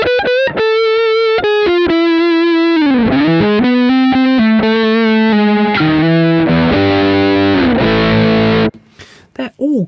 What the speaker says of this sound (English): Next one round, modern high gain. This is like a Soldano, it's kind of your Santana sort of sound.